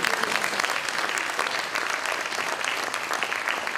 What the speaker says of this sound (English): Round of applause for John Thede.